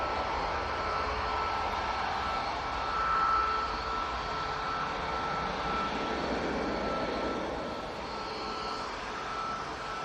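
Ryanair Boeing 737-800 jet rolling for takeoff at Manchester Airport, a steady broad engine roar at moderate distance that swells briefly and then holds, with no talk over it.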